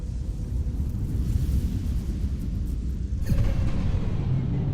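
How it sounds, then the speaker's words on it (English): A storm in Star Trek: Resurgence gives a deep, continuous low rumble that swells slightly partway through, heard alone without voices. "The storm! It's back!"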